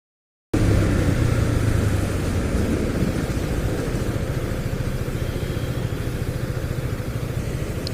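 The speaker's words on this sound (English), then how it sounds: "He called me a rider because I'm riding a motorcycle." A Husqvarna Vitpilen 250 motorcycle ridden through the city, its single-cylinder engine starting abruptly after a moment of silence, then droning steadily close to the mic with wind rumble.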